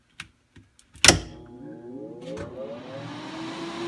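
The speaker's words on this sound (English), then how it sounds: "Fans do come on" Cooling fans spin up inside a powered Saturn 4x4 CNC control box after a sharp switch click, settling into a steady hum with a rising whine and broadband airflow hiss, heard up close with no talking.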